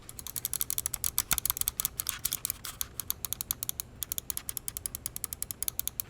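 Logitech G903 SE gaming mouse scroll wheel in clicky mode, rolled in quick runs of sharp, closely spaced ratcheting ticks with brief pauses, close and crisp with no talking.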